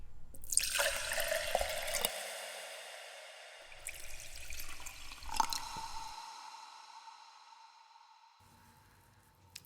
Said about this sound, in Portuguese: Ele soa muito bem com o som do copo da água.